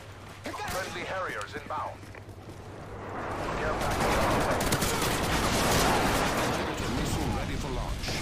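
Rapid gunfire and rumbling blasts fill a first-person shooter game, loud and dense, building into a sustained roar, with a voice speaking over the early part.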